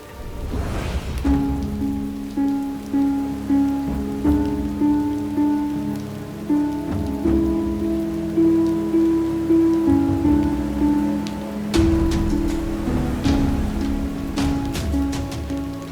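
Steady rain falls and patters on surfaces in a continuous wash, with sustained musical tones playing over it throughout.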